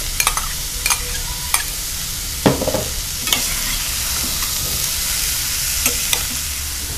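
Chopped celery and carrots frying in a pot for leek and potato soup: a bright, continuous sizzle, near and fairly loud, broken by occasional spoon knocks and stirring scrapes.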